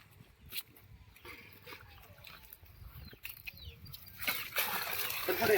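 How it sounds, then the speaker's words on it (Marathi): Water is thrown over a bull being washed for the Bail Pola festival in a village, ending in a loud splashing burst after quieter outdoor sounds with people talking in the background. "इकडे एक जण पाणी टाकतोय"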